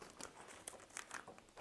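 A plastic bag holding accessories for a Wagner FC 4000 18V paint sprayer crinkles and rustles in short bursts, close and quiet, with no voices.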